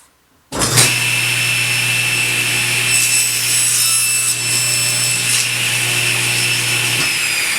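A table saw rips through a wooden drawer part in one loud, close cut, starting abruptly from quiet and holding a steady whining grind with a high tonal ring for about six seconds.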